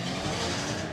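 Nissan 200SX and GTR drag racing cars roar at a Japanese car show drag strip, a dense, steady engine noise with no pauses, heard at a moderate distance.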